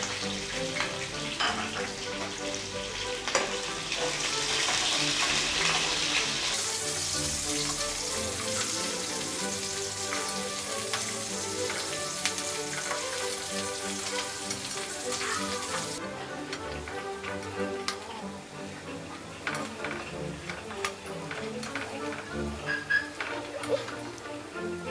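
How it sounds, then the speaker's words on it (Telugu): Onions, curry leaves and dried red chillies frying in oil in a pan for Nellore-style masala vada pulusu, a steady close sizzle with occasional stirring scrapes and no talk. "కరివేపాకు, ఉల్లిపాయలు వేసుకొని ఫ్రై."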